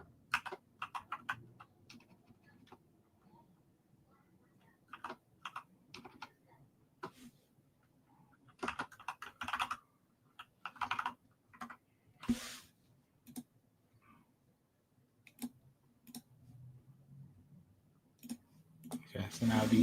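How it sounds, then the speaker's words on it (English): A loud mechanical computer keyboard clacks in sharp, uneven bursts of keystrokes with pauses between them, close to the microphone, while a person talks intermittently in the quiet room. "Sorry for the loud keyboard."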